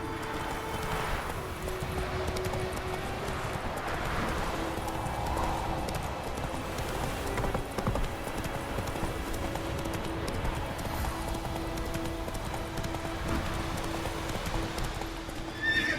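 Roach, the horse in The Witcher 3 video game, gallops with continuous rhythmic hoofbeats and lets out repeated whinnies and neighs, loud and close with no speech over it.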